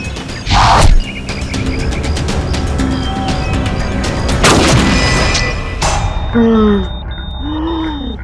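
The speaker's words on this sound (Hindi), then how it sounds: "फायर किसने किया? गोली किसने चलाई" A sharp gunshot cracks near the start of a tense crime drama scene, followed later by further loud impacts, a steady electronic tone and people talking.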